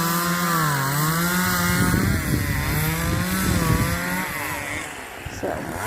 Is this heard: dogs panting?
no